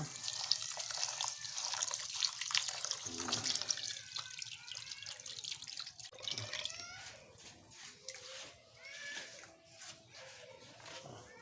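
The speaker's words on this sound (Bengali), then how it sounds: "চাল ধোয়া শেষ" Rice being washed by hand in water for pulao, with steady splashing, swirling and dripping sounds close by, scattered clinks, and a dog barking faintly in the background.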